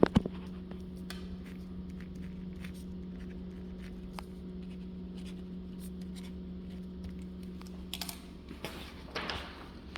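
A pen scratches out a date and a signature on home paperwork, making faint, irregular scribbling strokes over a steady low room hum. No one talks.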